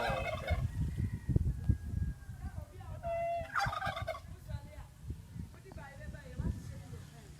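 Wild turkeys gobble in bursts on a farm, several rattling calls rising over close conversation and handling noise, with people talking throughout.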